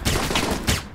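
Turret gunfire in the video game Alpha Protocol, a rapid loud burst of automatic shots rattling continuously for about a second, close.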